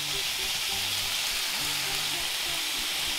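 Beef pieces searing in a hot pan for beef bourguignon, browning on each side: a steady broadband sizzle close by that runs unbroken for the whole span with low background tones beneath it.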